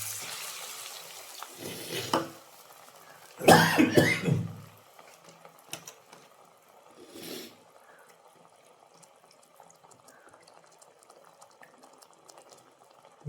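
Water is poured into a simmering fish curry in a pan, a short splashing burst standing out after a softer splash, then a quiet hiss with occasional faint stirring.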